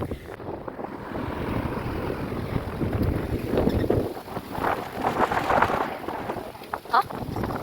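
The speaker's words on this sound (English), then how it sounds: "It's hella windy today." Strong wind gusts hard across the microphone outdoors on a cold day, a loud constant roar with swelling bursts throughout.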